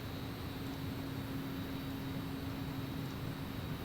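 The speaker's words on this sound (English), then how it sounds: "our little citation is freaking humming along here" A Cessna Citation jet in the X-Plane flight simulator, a steady, even engine drone with a constant whine, unchanging throughout and without talk.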